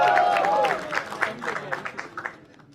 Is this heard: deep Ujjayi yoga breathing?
no